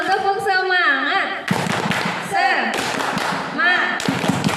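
Women in an audience perform a rhythmic 'tepuk semangat' clapping chant, with sharp claps in bursts between loud chanted voices and a leader's talk, close and energetic.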